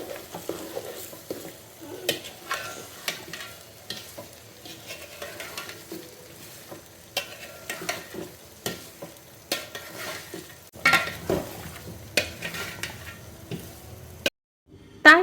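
Mango pickle with cumin, turmeric and chili powder being stirred in a pan, heard as irregular scraping and clicking strokes with soft sizzle underneath. The strokes come close and fairly quiet, and they grow a bit busier toward the end.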